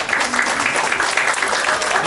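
Steady, dense applause from a church congregation at a Korean church Christmas celebration in Abu Dhabi, a continuous crowd clapping that holds evenly throughout.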